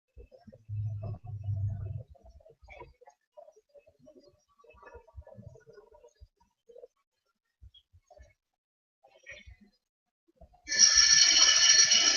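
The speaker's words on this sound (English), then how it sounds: "All right, there's your timer." A timer alarm rings loudly and steadily near the end, after a brief low thump and a stretch of quiet room noise.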